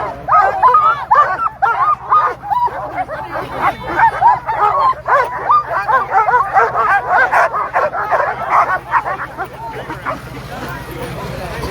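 Sled dogs at the start of the Knik 100 race in Alaska bark, yip and whine excitedly in a dense, loud, continuous chorus, with crowd chatter and voices mixed underneath.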